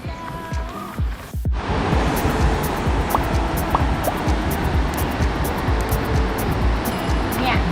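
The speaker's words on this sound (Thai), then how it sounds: "ได้ยินเสียงน้ำไหมนะ" Kaeng Sam Phan in Nakhon Nayok, a large rocky stream with strong current, gives off a steady, full roar of rushing water. After a brief rougher start, the roar continues loud and unbroken.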